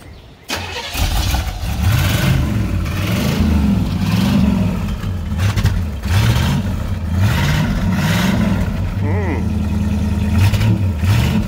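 A 1971 Buick Riviera V8 with a carburetor, found in a barn, starts up and revs loudly in rough surges, then settles into a steady idle, with people talking close by throughout.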